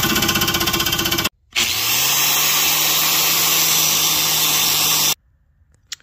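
Abrasive cutting tool slices the flange off a Ford 8.8 rear axle tube end, a loud steady grinding whine that stops briefly, restarts and runs for several seconds before cutting off.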